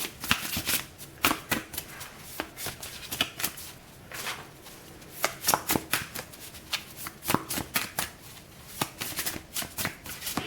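Tarot cards shuffled over and over in quick papery bursts, a steady rhythm of riffles and slaps close up with short pauses between, no talking.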